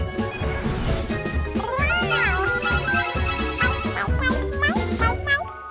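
A phone ringtone jingles with bright tinkling notes over a busy musical backing, while a cat meows loudly and repeatedly nearby, all fairly close.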